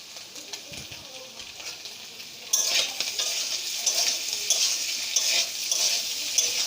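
Boiled potatoes frying with cumin in a pan for jeera aloo, first a quiet stir, then a louder sizzling crackle that jumps up partway and continues with scraping spoon sounds.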